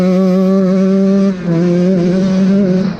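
A KTM 150 XCW two-stroke dirt bike engine fitted with a Lectron carburetor idles loudly and close, running rich with a flooding, bogging fault. The steady buzzing drone briefly dips partway through, then resumes.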